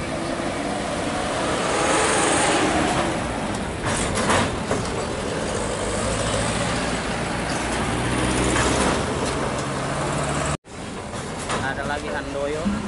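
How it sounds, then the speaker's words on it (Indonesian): Cars rolling off a ferry at Bakauheni port, a continuous heavy rumble of engines and road noise, fairly loud and steady, with a brief dropout near the end. "Ini mobil keluar dari kapal perisi."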